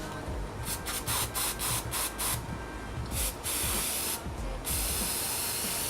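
A string of short, hissing aerosol spray bursts of cleaner onto the idle control valve of a 2001 BMW 330i, several quick pulses followed by longer sprays, close to the mic with steady background noise.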